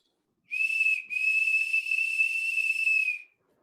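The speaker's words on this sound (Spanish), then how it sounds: "Y ahí tenemos este silbato." A steady, high-pitched whistle blown twice on a homemade bottle whistle: a brief tone, a short break, then a long sustained note that fades out, with no talking.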